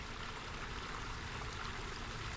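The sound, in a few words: water trickling in a DIY waterfall koi pond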